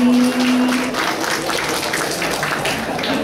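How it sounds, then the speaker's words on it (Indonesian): Audience applause at a campus concert event, loud and dense clapping from a crowd that runs steadily throughout, with a faint tonal hum early on. "Tepuk tangan dong sekali lagi."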